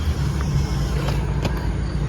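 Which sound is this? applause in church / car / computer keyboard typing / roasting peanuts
car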